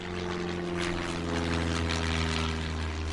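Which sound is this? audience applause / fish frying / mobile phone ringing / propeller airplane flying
propeller airplane flying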